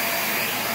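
A Hoover React Professional Pet vacuum cleaner runs on a rug, a loud, close, steady high-pitched motor whine and airflow roar with no break.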